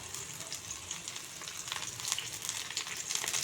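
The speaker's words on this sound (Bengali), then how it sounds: "তেলটা গরম হয়ে গেছে, দেখুন পেঁয়াজ কুচিগুলো দিয়ে দিচ্ছি।" Chopped onions drop into hot oil in a pan that has just fried small fish, giving a soft, steady sizzle with faint crackles close by.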